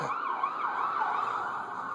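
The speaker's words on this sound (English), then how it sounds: "I just hear a siren." A wailing emergency siren sounds outside in Las Vegas after the May 2015 earthquake, its pitch sweeping up and down in a steady, continuous cycle at moderate distance with no talk over it.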